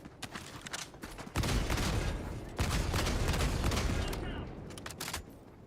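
Heavy autocannon fire in a video game, a sustained roaring barrage of dense rapid shots loud and close, with a brief lull before it resumes and then tapers off.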